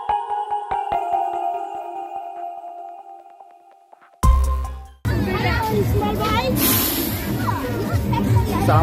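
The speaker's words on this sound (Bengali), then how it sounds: "ছোট বাচ্চারা দোলনায় দোল খেলে সময় কাটাচ্ছে।" Small children playing on park swings, their chatter and calls rising in a lively babble after a few seconds of quieter sounds and a sudden bump.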